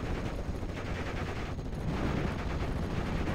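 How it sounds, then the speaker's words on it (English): Machine-gun fire rattles continuously in a World War II strategy game battle between American and 21st Panzer forces, a dense, loud, sustained burst of rapid shots layered with battlefield rumble. "Number of MGs are still alive, causing suppression upon these squads"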